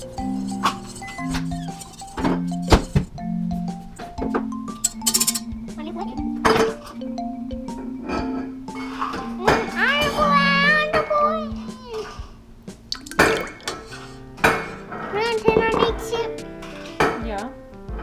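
Oil and egg whisked in a bowl during a preschool cooking activity, producing irregular metallic clinks and scrapes close by, mixed with children's and adults' voices talking throughout.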